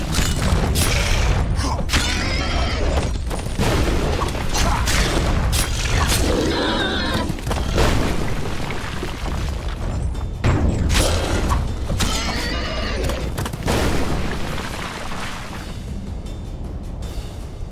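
Enemies exploding in The Witcher 2: Assassins of Kings, a dense, loud run of shattering bursts, booming thuds and clattering debris that overlap continuously, with no pauses and no talking.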